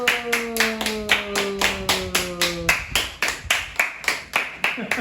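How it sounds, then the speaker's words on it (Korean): A crowd at a Bible doctrine school camp claps in loud, steady unison, about three or four beats per second, with voices heard over the first half. "박수 정말 크죠?"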